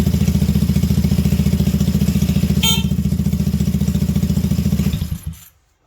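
A wrecked T-Rex vehicle's engine running close by with a fast, even, throbbing idle, a brief rattle partway through, then cutting off abruptly into silence.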